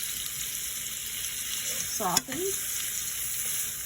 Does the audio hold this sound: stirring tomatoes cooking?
yes